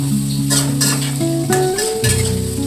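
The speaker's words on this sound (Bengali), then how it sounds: "ঢাকা দিয়ে আলুগুলো ভাজবো কিছুক্ষণ।" Potatoes frying in oil in a covered pan, a steady sizzle with a few stirring scrapes, set against a sustained tonal background.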